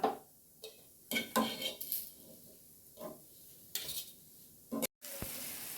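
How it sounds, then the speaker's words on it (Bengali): Poppy-seed fritters fry in oil in a pan, with quiet bursts of sizzling and spatula clatter separated by near-silent gaps, heard close with no voices. "আর বাকিগুলো এভাবে ভেজে নিচ্ছি"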